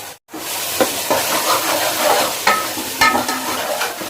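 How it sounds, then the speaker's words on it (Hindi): Chickpeas sizzle and fry in masala as they are stirred, a loud continuous hiss broken by a few sharp scraping strokes of the spoon, after a brief silent gap at the start. "कुछ देर इसे हम फिर अच्छी तरह से फ्राई भी करेंगे"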